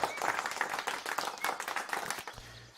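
A crowd applauds with dense, continuous clapping for a few seconds in the medieval city-building game Foundation before it cuts off abruptly.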